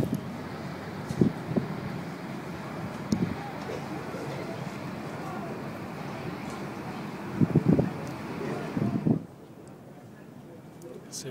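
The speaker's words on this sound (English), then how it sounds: "It's a bit windy." Steady broadband wind rushes and buffets against the microphone on a rooftop above Venice's Grand Canal, with faint voices underneath, then drops away suddenly near the end.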